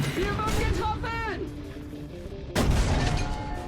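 Someone talks, then a single loud, heavy Leopard 1 tank cannon boom bursts close by in the video game War Thunder.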